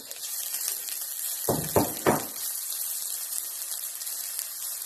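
Chopped onions dropped into hot vegetable oil for egg fried rice: three quick loud crackling bursts as they hit the pan, then a steady bright sizzle that carries on evenly.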